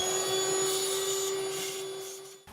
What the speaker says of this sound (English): Let me get a vacuum cleaner. We're just gonna suck up everything we can.